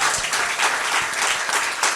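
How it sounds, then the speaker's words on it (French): A church congregation claps and cheers to acclaim the Lord Jesus, a steady roomful of applause filling the space with scattered voices mixed in. "Est-ce que tu peux acclamer le Seigneur Jésus?"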